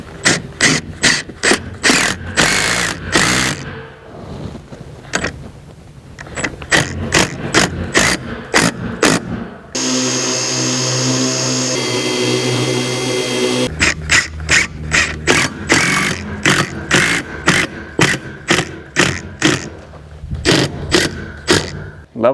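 A drill drives 4-inch screws into a wall stud, loud, close and rapid ratcheting whirs that run in long bursts, broken by a steadier motor hum in the middle.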